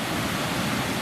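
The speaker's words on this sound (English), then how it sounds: "So this is Balls Falls, the lower falls" Balls Falls lower waterfall near Jordan in the Niagara River system roars as a steady, dense wash of falling water, constant and close with no other sounds.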